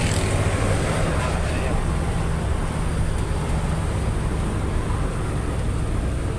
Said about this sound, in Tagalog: road test ng truck kung malakas na ba yung atak ng makina kasi bagong gawa yung injection pump